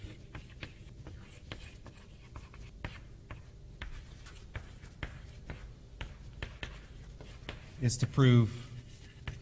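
During a university mathematics lecture, chalk or marker taps and scratches across a board in short, irregular strokes. Someone speaks briefly near the end, over the steady low room noise.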